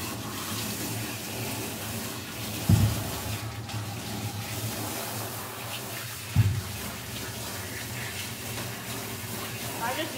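Running water rinses a dog during grooming, a steady close hiss of spray with a couple of brief splashing bumps, and faint talk in the background.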